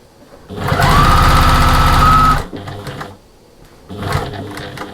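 A sewing machine stitches a seam on a fabric storage caddy in one loud, rapid mechanical burst of a little over a second, then stops, and two shorter, softer clatters follow.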